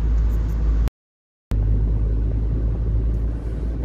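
A car drives at night along a city bus lane on 3 Maja street in Sosnowiec, giving a steady low road rumble with a short silent gap near the start, then continuous engine and tyre noise.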